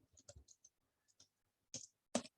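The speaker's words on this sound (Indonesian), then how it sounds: "Bentar gue ketikin ya." Close computer-keyboard keys are tapped in a few quick, light clicks, followed by a pause and then two sharper, louder keystrokes. No one speaks during the typing.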